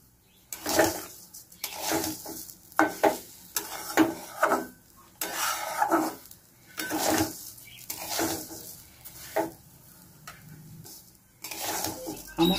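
Rice for pulao is stirred and fried in a pot, a metal spatula scraping and clinking in irregular bursts with a faint sizzle beneath, close and fairly quiet.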